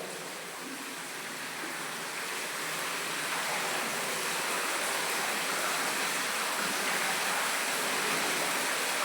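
Water rushing through a treatment plant filter during backwashing, a loud broad continuous roar that builds slightly and then holds steady, with no voices.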